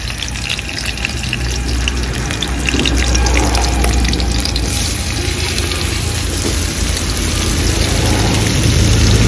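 Cut bitter gourd hitting hot oil in a pan, producing a loud, steady, dense sizzle and crackle of frying that stays close and continuous throughout.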